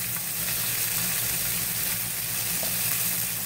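Steak pieces hitting a hot pan and sizzling steadily, a dense continuous hiss close up with a low background hum and no talking.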